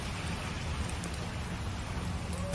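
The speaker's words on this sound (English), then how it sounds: "Heavy rain causes flooding in a city street." Heavy rain pours steadily onto a flooding city street, a dense, continuous roar with no break and no voices.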